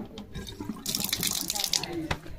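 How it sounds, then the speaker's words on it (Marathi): Water runs from a tap in a house, a splashing, hissing stream that starts quietly and grows louder and fuller midway before tapering, with a voice speaking faintly in the background. "इथून पाणी येतं"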